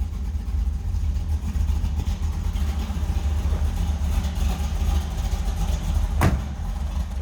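A 1971 Chevrolet Nova with a 502 engine idles with a deep steady rumble close by, holding a loud continuous drone broken by one sharp throttle blip near the end.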